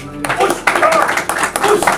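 A church congregation at an Urdu sermon claps in a burst of quick, close, uneven applause lasting about two seconds, with voices mixed in.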